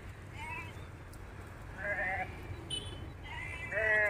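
A large flock of domestic sheep back from grazing and drinking water, with scattered bleats at moderate distance over a low outdoor rumble and voices.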